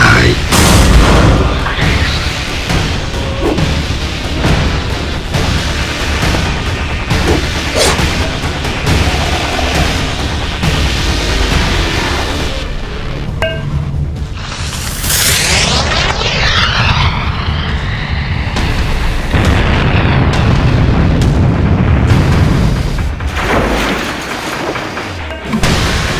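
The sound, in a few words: gunfire and explosions in a video game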